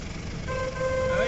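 A Willys Jeep horn honks in a steady tone through the second half, fairly close and moderately loud over background noise.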